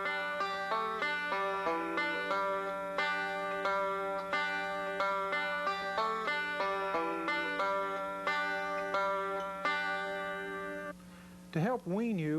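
A banjo picks a bluegrass phrase across two measures, bright plucked notes in a steady rolling rhythm with quarter notes and pinches, close and loud, ending with a brief string bend or slide.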